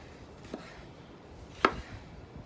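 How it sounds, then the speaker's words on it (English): A knife chops a tomato on a board in two separate soft strikes, the second louder, against a quiet background with no talking. "chop him up"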